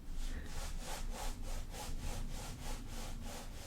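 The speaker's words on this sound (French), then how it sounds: "je viens frotter mes pieds contre le sol, de manière à stimuler ma base" Bare feet rub back and forth against the floor in a steady rhythmic swishing, soft and close, with about a dozen even strokes and no talking.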